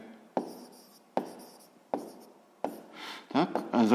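Pen or pencil writing by hand on paper during a sixth-grade maths exercise, heard as four distinct stroke bursts with short scratchy scribbles, close and fairly quiet, followed by a brief stretch of a voice talking.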